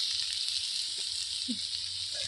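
Vegetables with turmeric powder frying in a pan for a Chinese cabbage thoran, giving a steady, close sizzle with a few faint scrapes of stirring, no voices.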